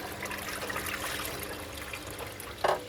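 Water rushing and trickling inside a Miele Novotronic washing machine during a rinse cycle after repairs, a steady close wash of liquid with a brief louder splash near the end.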